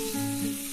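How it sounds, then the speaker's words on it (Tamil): Tomatoes, garlic and onion sauté in hot oil in a pan for a South Indian thuvaiyal, a close, steady sizzle and crackle over a short moment with no voices. "1 நிமிஷம் நல்லா வதக்கிக்கோங்க."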